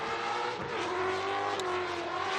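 A Lucas Oil Ford Mustang drift car on Falcon tires revs hard during Formula Drift qualifying at Irwindale, a loud, sustained engine roar with shifting pitch and a brief dip, close and continuous.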